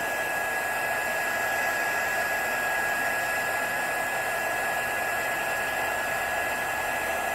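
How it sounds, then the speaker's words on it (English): Heat gun blowing hot air, a constant close rushing hiss with a steady fan whine, unbroken throughout. "I'm just going to hold the heat gun up to it"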